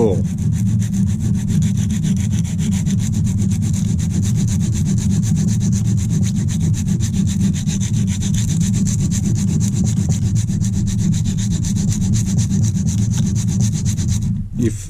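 A silicon carbide sharpening stone being flattened with loose sand gives a loud, steady gritty rasping scrape that runs without a break for about fifteen seconds, then cuts off abruptly near the end.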